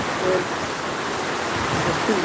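A steady rushing roar of heavy rain and strong gusting wind in a Phulpur storm, continuous and fairly loud, with faint traces of a voice at the start and end.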